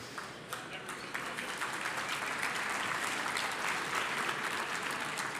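An audience at a chamber of commerce gala claps steadily, a dense patter of applause that swells slightly and holds for several seconds.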